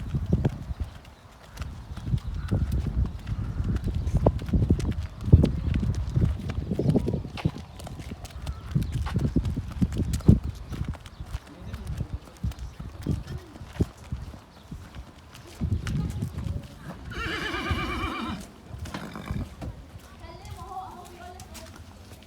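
A horse is led in and out of a horse box, with hooves clip-clopping irregularly on a hard floor alongside shuffling footsteps and knocks, then a brief whinny near the end. Someone talks at times over the hoof sounds.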